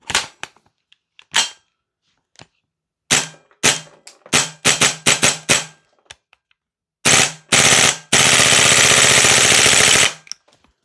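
A Vorsk VMP-2 gas blowback airsoft rifle fires sharp single shots, then quick strings of rapid shots, and ends in a long sustained full-auto burst of about two seconds, loud and close with no talk.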